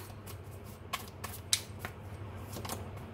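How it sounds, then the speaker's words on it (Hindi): Tarot cards are drawn and handled for a reading, giving a few soft, scattered flicks and slides of card stock close by, with no talking. "करियर के लिए कार्ड निकालते हैं"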